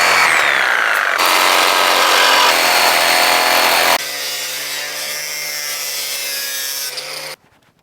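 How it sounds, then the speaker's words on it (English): A power saw cuts loud and close through the bumper opening on a truck during a winch front bumper install, a steady harsh grinding buzz that shifts pitch partway through, then stops abruptly. "We need to make a line flush with the bottom of the opening here, and this is where we're going to cut"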